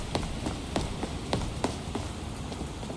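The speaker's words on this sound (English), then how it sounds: "Even with the rain coming down and running with spells." Rain falling in the video game Skyrim, a steady hiss of rainfall with scattered brief drop and splash ticks throughout, moderately loud with no talking.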